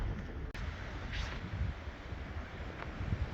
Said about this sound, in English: Well, the wind's really picking up now